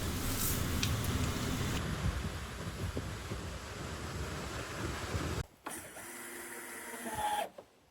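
Wind gusts steadily around a wooden treehouse, a loud broadband rush with creaks and rumble that runs continuously, then drops abruptly to a quieter gust before rising again near the end.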